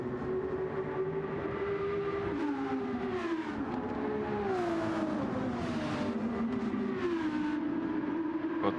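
Race car engines in Gran Turismo 7 during an endurance championship race, a steady loud drone with pitch rising and falling as cars accelerate and shift through gears.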